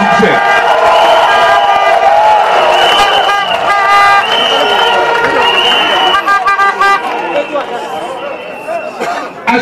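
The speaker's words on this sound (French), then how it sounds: "je voudrais vous demander d'acclamer nos forces de défense et de sécurité" A large outdoor crowd at a public address cheers and acclaims the defence and security forces, a loud sustained roar of voices with whistles, horns and shouts blending together throughout.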